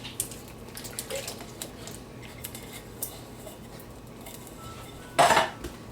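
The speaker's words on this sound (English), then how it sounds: "And then just stir that all together." A spoon stirs canned chili beans and pinto beans in a pot, giving sparse, soft metallic clinks and scrapes, then one sharp, louder clatter near the end in an otherwise quiet kitchen.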